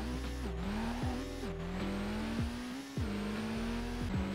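A car in a street racing video game revs and shifts through gears, its engine tone climbing and dropping repeatedly, loud and steady with no talk over it.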